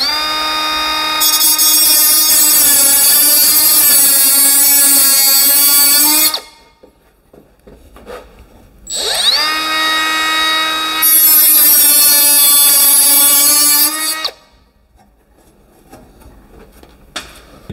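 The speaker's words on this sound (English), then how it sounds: "We may as well demo the grinder again," Angle grinder cutting into 75 x 75 steel trunking, a loud high-pitched whine in two long bursts of about five seconds each, separated by a short quiet gap as the disc spins back up, with no talking.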